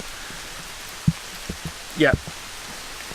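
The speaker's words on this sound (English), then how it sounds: "It's just rainy" Steady rain hisses on a walking trail on the East Clare Way in Ireland, a constant close wash of drops, with brief thumps and a person speaking briefly over it.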